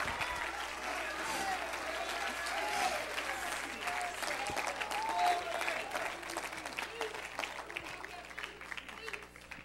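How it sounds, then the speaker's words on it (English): A church congregation claps during a lively worship service, a steady wash of many hands at moderate level, with a preacher's voice and crowd noise mixed underneath. "Somebody clap your hands to heaven."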